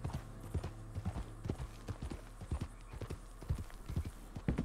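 Horse hooves clip-clop at a steady walking pace in the Red Dead Redemption 2 video game, with soft, even beats and a low background hum.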